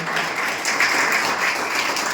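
Steady applause from an audience at a village child-labour-free declaration meeting, clapping for the panchayat head; a dense, continuous patter of many hands at moderate loudness throughout.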